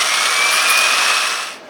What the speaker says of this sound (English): using a drill with a wire wheel on it has its share of problems